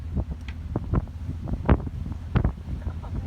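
Wind buffets a boat on the Alligator River as it runs with the wind at its stern through rough, opening water, making a steady, gusty rumble broken by irregular thumps. No one speaks.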